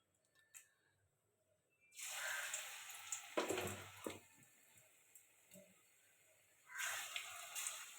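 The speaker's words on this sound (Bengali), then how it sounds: "এবার বড়াগুলো ভেজে নেব।" Pumpkin flower fritters frying in hot white oil in a pan, giving bursts of crackling sizzle that swell as batter goes in, ease off, then rise again near the end.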